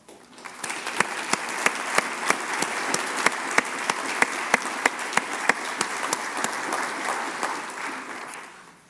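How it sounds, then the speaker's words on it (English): Medical school graduation guests applaud faculty and supporters in a steady wave of clapping that rises quickly, holds with some sharp standout claps, then tapers at the close. "Let's give you a round of applause."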